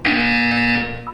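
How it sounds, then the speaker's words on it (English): A loud, steady electronic buzzer from the video game Portal 2 holds for about a second, then cuts off into a brief softer tone. "When you hear the buzzer, look down at the floor."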